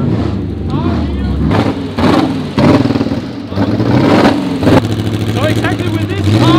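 A historic Porsche Formula 1 race car, shown alongside an 804 and a 718, revs its engine up and down in loud, close bursts. People talk over the revving.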